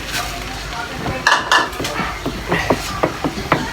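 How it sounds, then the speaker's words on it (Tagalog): Clinking, scraping taps of a utensil against a container as thickener is stirred into homemade dishwashing liquid, a run of irregular close knocks with a brief voice nearby. "Haluin natin dandahan."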